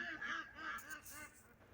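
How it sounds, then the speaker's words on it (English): Several geese honk in a yard, a close cluster of loud, nasal, repeated calls overlapping in quick succession, fading toward the end. "Why do I have a bunch of geese in my yard?"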